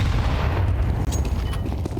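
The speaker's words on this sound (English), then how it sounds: "those nades are devastating" Grenade blasts rumble through a Counter-Strike match, a dense, sustained low booming wash with crackling bursts on top, loud and continuous throughout.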